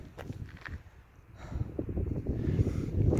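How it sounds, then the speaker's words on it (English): Gusty wind buffets the microphone on an exposed Pennine Way hillside near High Cup Nick, producing low rumbling bursts that ease off and then build louder toward the end, with faint rustling mixed in and no one speaking. "It's been pretty hard to talk to the camera because it's been so windy."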